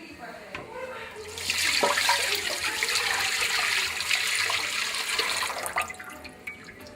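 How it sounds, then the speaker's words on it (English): Water poured from a tap into a Magnalite pot for potato soup, a steady, fairly close rushing splash lasting several seconds before tapering off into drips. "Now I'm putting about 3 or 4 inches of water in my mag."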